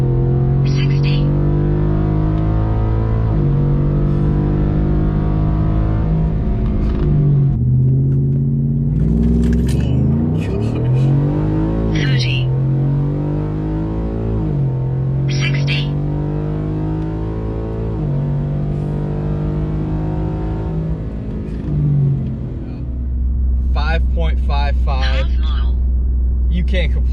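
Stock Ford truck with a 5.0 engine in four-wheel drive and sport mode, accelerating hard; a loud, rising engine drone climbs through repeated gear shifts, with people talking excitedly over it.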